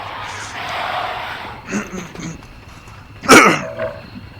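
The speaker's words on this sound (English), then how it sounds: "Sorry, cough." A person coughs and clears their throat at a computer during a gaming stream, with a few throaty bursts and one sharper, louder cough near the end, close to the microphone.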